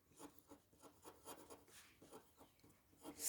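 Pen scratching across paper as math solution steps are written out, a run of short rubbing strokes in an uneven rhythm, fairly close and quiet, with no talking.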